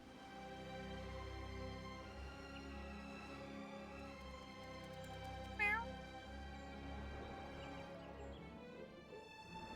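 A cat mount in the Final Fantasy XIV video game gives a short meow partway through, rising clearly above a sustained musical backdrop.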